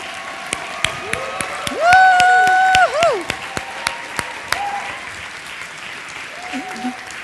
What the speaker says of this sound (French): On veut vraiment vous applaudir.